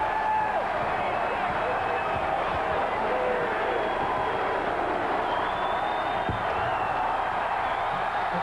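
Partisan Massachusetts basketball crowd in Springfield roaring steadily through the final seconds of a game against Arkansas, a dense continuous wall of cheering with scattered whoops, heard from within the arena.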